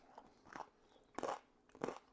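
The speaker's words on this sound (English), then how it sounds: "good crunch on the outside" Crusty homemade baguette bitten three times, each bite a sharp, close crunch with crackly texture, separated by short pauses, no talking.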